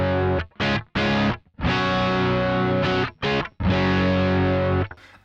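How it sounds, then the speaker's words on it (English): Electric guitar played through a SansAmp pedal on its Plexi setting with the hot button boost, giving thick distorted chords. It is loud and close, with short choppy stabs, then longer sustained chords that cut off into brief silences. "this is just my Sans amp pedal, and I use the Sans amp with the Plexi setting and the hot button"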